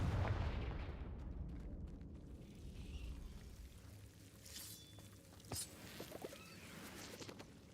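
Confringo fire-blast spell in Hogwarts Legacy on Nintendo Switch: a fairly quiet, rumbling burst that fades out, followed by a few scattered cracks and small pops.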